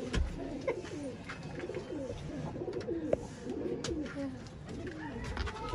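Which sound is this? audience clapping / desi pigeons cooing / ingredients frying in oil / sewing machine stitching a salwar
desi pigeons cooing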